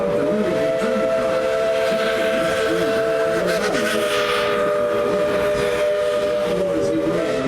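A Tweetsie steam train draws to a stop, its whistle sounding in long sustained tones over a steady rumble of wheels and steam, loud and close.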